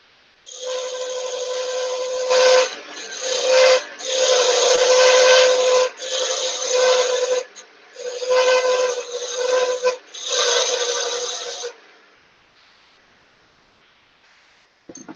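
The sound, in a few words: woodturning parting tool being sharpened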